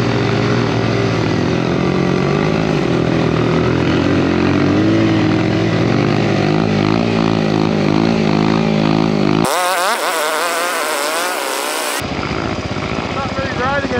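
Honda XR100R dirt bike engine revving hard while spinning its rear wheel in deep snow, a loud, sustained buzzing whine that rises and falls steadily, close to the microphone for the whole stretch.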